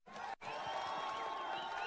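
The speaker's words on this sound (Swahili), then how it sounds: "Huyu mama ni gavana wetu Kawira Mwangaza, mpigeni makofi." A crowd at a live budget reading gathering cheers and shouts from a distance as local leaders are introduced, a dense, sustained roar of many voices after a brief gap at the start.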